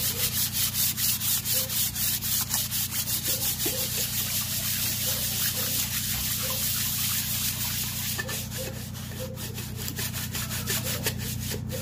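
Dry sandpaper rubs by hand against a VW 1.9 TDI PD engine block in steady, rhythmic back-and-forth strokes, close and continuous, over a low steady hum.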